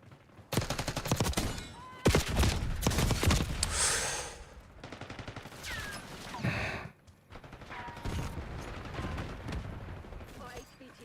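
Gunfire in Call of Duty: Black Ops 6 erupts in dense, rapid bursts of loud shots and crashes through the match, with brief pauses between volleys.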